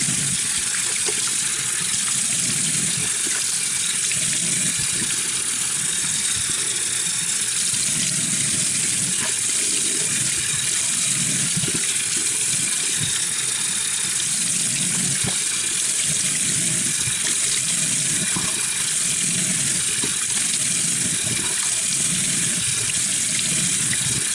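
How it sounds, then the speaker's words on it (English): Warm water runs steadily from a bathroom tap into a sink for a face rinse, a continuous close hiss and splash with shifting gurgles as hands move through the stream. "now I'm going to rinse my skin with very warm water"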